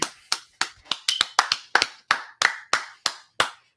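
A group of brothers at a class in San Antonio clapping hands in an even, steady rhythm, about a dozen crisp, close claps with brief gaps between them.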